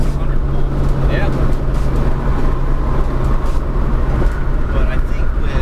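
A 2013 Genesis Coupe fitted with an Injen intake pulls hard, its engine a steady, loud, close drone with a low hum from inside the cabin while people talk over it.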